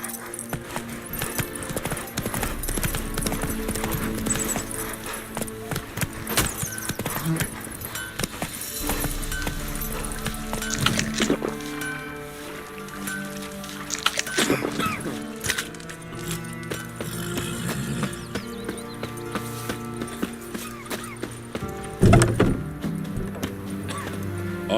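Roach the horse's hooves clip-clopping steadily in The Witcher 3, a continuous rhythmic trot heard close under game music and ambience, with brief voices now and then.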